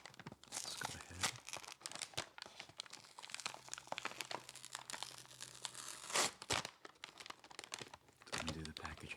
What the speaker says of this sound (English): Undo the packaging there.